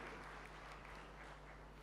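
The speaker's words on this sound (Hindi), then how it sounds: "ताली बजाकर अभिनंदन कीजिए।" Audience clapping at a Hindi religious discourse, a continuous dense patter of applause from a crowd, faint and steady over about two seconds.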